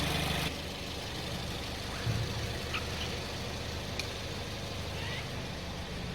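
Car engine idling during a charging system check, a low steady hum heard faintly and evenly throughout with a couple of small clicks.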